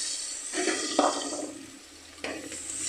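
Chopped onion drops into melted butter in a pan for curd butter chicken, setting off a close, bright sizzling hiss that flares in bursts as the pieces land and settle.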